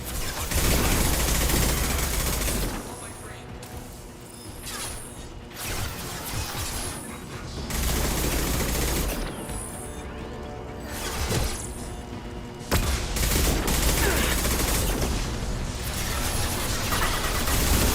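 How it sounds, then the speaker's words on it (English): Heavy gunfire roars through a Mass Effect video game battle, a dense, loud, near-continuous barrage of rapid shots and impacts lasting throughout, with brief lulls between bursts. "Taking heavy fire!"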